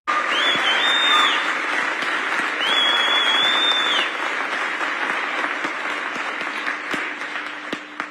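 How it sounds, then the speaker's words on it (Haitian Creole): Sustained applause from a large audience after a speech, steady dense clapping that holds loud for several seconds before easing slightly, with a couple of shrill whistles cutting through near the start. "ou capable tendre audience là qui bat bravo pour déclaration d'âme ça"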